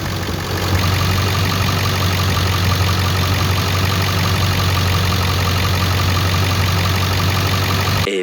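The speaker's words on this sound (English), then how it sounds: "Eventually, the compressor will kick on, and then it'll really start drawing out of that can." A car engine idles steadily and loudly while the R-134A A/C compressor runs, a continuous low hum with faint knocking texture, cutting off at the end.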